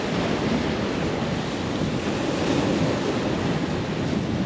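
Strong wind gusting in the Andes mountains during a bikepacking trip, a steady loud roaring rush of air buffeting the microphone throughout, with no voices.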